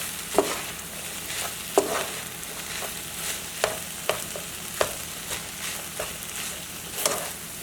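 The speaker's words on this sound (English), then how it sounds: "And then I'm going to start mixing it" Alligator fried rice stirred and mixed in a hot pan, a low steady sizzle broken by a regular series of sharp spatula scrapes and taps against the pan, close and alone.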